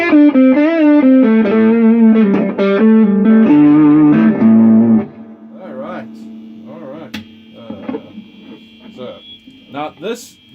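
Electric guitar with new strings through a noisy Fender Super Sonic 22 amp: loud, distorted, reverberant notes for several seconds, then a lingering hum with scattered crackles and faint string noises.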